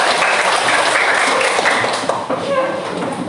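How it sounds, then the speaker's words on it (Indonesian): A class applauding during an ice-breaking activity in a lesson, a loud, continuous spread of clapping from a group in a room, with voices audible underneath. "boleh tepuk tangan kita semua."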